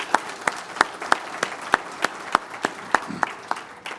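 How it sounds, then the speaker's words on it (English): Sparse, sparing applause from a small audience at a community breakfast forum on ballot questions, thanking sponsors: a dozen or so distinct hand claps spaced at a steady, slow rhythm, fairly close, with no talking. "Let's have another round of applause for all of our generous sponsors."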